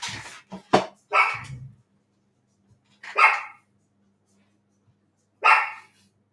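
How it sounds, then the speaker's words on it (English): Dogs in a home kitchen bark in short loud bursts, a quick cluster at first and then two single barks spaced apart, close to the microphone. "I've got dogs barking."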